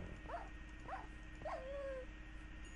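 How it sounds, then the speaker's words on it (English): A tamed wolf in the video game Minecraft gives three short, whiny yips in quick succession, then one longer drawn-out whine, all fairly close over a low steady background hum. "Why are you growling?"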